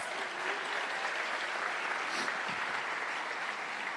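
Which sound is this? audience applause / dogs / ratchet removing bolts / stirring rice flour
audience applause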